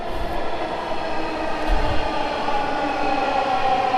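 Dhaka metro rail train pulling into a crowded station, a steady loud rumbling roar with low thumps running under it throughout, with no talking.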